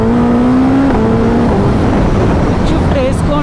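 A superbike accelerating hard with the throttle pinned and a quick shifter, its engine note climbing loud and close in a steady roar, with overlapping rising tones suggesting rapid upshifts.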